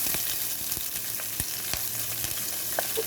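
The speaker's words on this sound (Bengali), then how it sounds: "এখন এখানে দিব এই যে একটা বড় সাইজের পেঁয়াজ কুচি।" Chopped onion frying in oil with whole cardamom, cloves, black peppercorns and a cinnamon stick, giving a steady close sizzle with scattered crackles and pops throughout, no talking.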